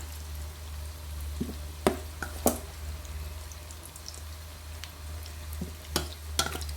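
Soft, low sizzle of food frying in a pan, with occasional sharp clicks and taps of a utensil against the pan.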